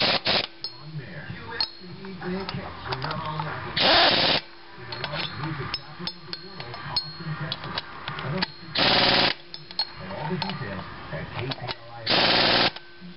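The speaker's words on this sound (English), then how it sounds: "I have a little butterfly air tool that I'm going to use to spin these on." A small butterfly air tool spinning bolts on during a Corvette C5 power steering pump replacement, giving several short, loud bursts of whirring and ratcheting among workshop clatter, with talk in between.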